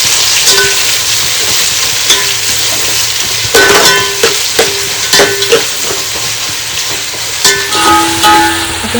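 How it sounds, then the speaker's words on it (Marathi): Sliced onion fries in hot oil for a biryani, giving a loud, continuous sizzle broken by repeated scraping clanks of a spatula stirring the pan, heard up close. "कांदा पीस होईपर्यंत शिजवायचा छान. तो कांदा तेलात असा मस्त पोहायला लागला पाहिजे."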